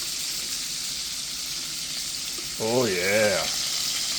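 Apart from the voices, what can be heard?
pork chop frying in bacon grease, flipped in pan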